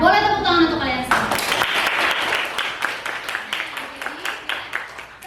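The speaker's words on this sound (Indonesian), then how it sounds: "Ya, boleh tepuk tangan untuk kalian semua." After a moment of talking, a classroom of students breaks into brisk applause, dense at first and then thinning into scattered claps before fading.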